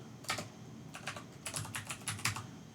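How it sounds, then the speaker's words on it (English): Fingers type on a computer keyboard entering a git config command, with several quick bursts of keystrokes separated by short pauses, close and clear in a quiet room. "we're going to type git config"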